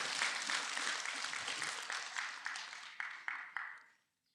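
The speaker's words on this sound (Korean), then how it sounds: "박수를 치려면 제대로 치고" Applause from an audience at a Buddhist Dharma talk, a dense steady patter of many hands that thins and fades out over about four seconds, with a few last claps at the end.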